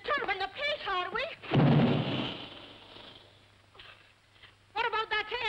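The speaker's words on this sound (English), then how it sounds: "What about that air gun of yours booming all day and night?" An air gun booms in a 1941 musical comedy film, a single deep rumbling blast that swells and fades over a couple of seconds between stretches of talk.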